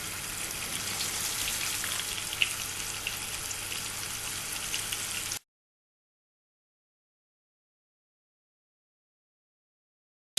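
Meatballs fry in a pan with a bright, continuous sizzle and crackle for about five seconds before it cuts to silence.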